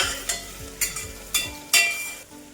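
Finely chopped onion, slit green chillies and asafoetida stirred in hot oil in a pan, a soft steady sizzle broken by four sharp scrapes of the spoon, close and without talk.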